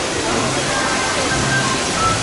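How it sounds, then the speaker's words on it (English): Water rushes steadily through a pipe at the Toon Lagoon area of Islands of Adventure theme park, a loud, continuous broadband gush with no break. "you've got water coming through the pipe"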